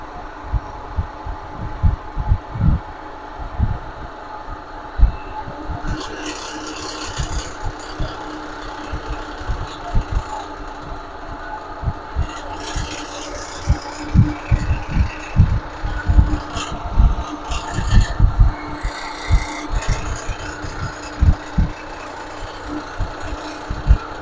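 Engine revving at high RPM with a misfire, giving an uneven, stumbling train of low thumps over a steady mechanical drone, with a few brighter bursts partway through.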